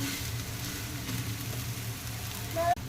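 Besan thalipeeth fries steadily in oil in a pan, with a soft continuous sizzle over a low hum, ending in a brief scrape and clank as it is flipped.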